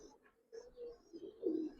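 A Chila pigeon coos nearby, a few soft, low, throaty notes in short bursts, the last one the loudest, in an otherwise quiet space.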